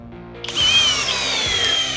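A cordless combo drill, FLEX or Ridgid, runs under heavy load during a torque test, a loud close continuous whine that rises and strains before slowing as it nears stalling.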